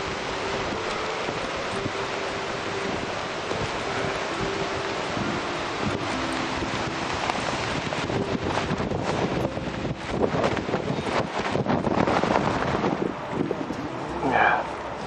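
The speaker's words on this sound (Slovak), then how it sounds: "Strašne stúpa vietor." Strong wind rising over a lake during a carp fishing trip in Croatia, a loud continuous roar and buffeting against the microphone, with gusts surging in the second half.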